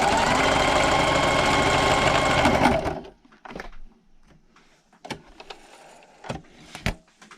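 A sewing machine stitches fabric for patriotic pocket placemats in a steady, close whir for about three seconds, backstitching near a final pin. It then stops, and scattered light handling clicks and taps follow in near quiet.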